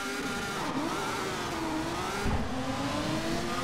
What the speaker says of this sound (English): these cars are super loud